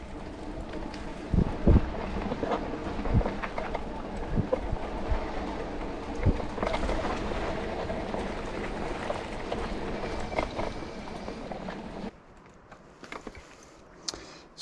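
A Lectric XP Lite folding e-bike riding over rough, bumpy ground, a continuous rattling rumble with sharp jolts and knocks from the frame, under steady wind noise, quieting near the end.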